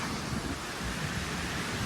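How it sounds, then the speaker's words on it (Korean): Roaring rush of Wachirathan waterfall, a steady broadband wash of falling water with no break, loud and close, with no voices over it. "폭포 끝내주네 대단합니다 와치라탄 폭포입니다"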